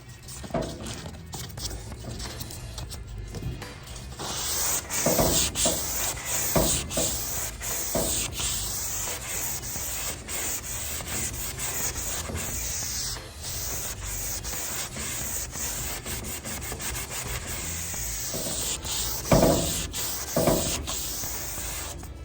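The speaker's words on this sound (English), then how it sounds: "you can see it sanding out this high build" Steady rasping strokes of a hand sanding block rubbed back and forth over high build primer, close and continuous with some louder scrapes.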